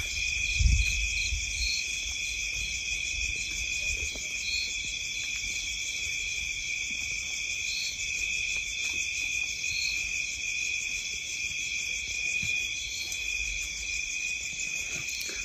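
Dense, steady chorus of crickets and other insects trilling without pause through the night air at Sinhagad Fort, unbroken and fairly close, with no voices.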